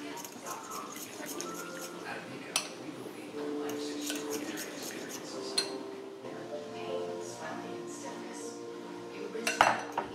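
Butter, oil and herb spice mixture being mixed in a bowl, with repeated clinks and scrapes of a utensil against the dish in an irregular rhythm, close by, with some speech in the background.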